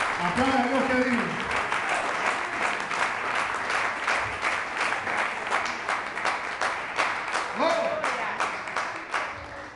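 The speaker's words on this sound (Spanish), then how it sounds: "Aplauda a Dios que diga." A church congregation applauds God during a sermon, a dense, steady wash of clapping lasting the whole stretch, with voices calling out over it near the start and again toward the end.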